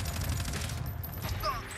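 Video game gunfire, a rapid fusillade of shots that runs through the short clip, moderately loud over a steady background of game noise.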